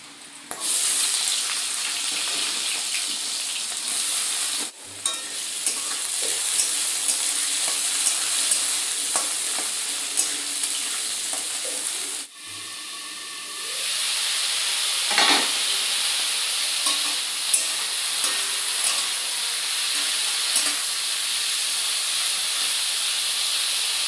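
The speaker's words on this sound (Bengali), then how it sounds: "ওইদিকে মূলো ভাজা করলাম" Radish fries in a pan in a village kitchen with a long, steady sizzle and hiss. Occasional stirring scrapes and clicks sit on top, and the sound cuts out briefly twice before resuming.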